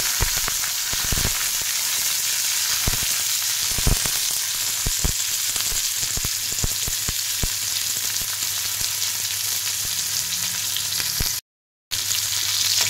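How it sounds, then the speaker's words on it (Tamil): Onions and curry leaves frying in hot oil for a Tamil bottle gourd kulambu give a steady, loud sizzle with scattered crackles and pops, close up and without talk, cutting out briefly near the end. "கருவேப்பிலை போட்டதும் வெங்காயம் போட்டு"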